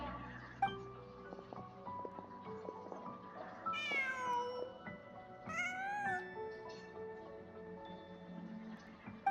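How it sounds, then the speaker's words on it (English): A cat in Genshin Impact meows repeatedly, a few clear rising and falling cries over a steady musical background, with no talk. "Just a cat."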